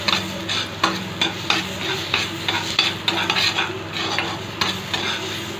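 Ridge gourd stir-fried in a pan for thokku pachadi gives a continuous sizzle broken by rhythmic spatula scrapes and stirs, close and clear with no talk.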